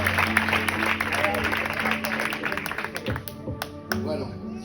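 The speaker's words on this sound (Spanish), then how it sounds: "¿Podéis dar un aplauso a Dios," A church congregation claps in applause at a Spanish service, a dense burst of hand claps heard alongside a steady hum and some voices, tapering off briefly before picking up again.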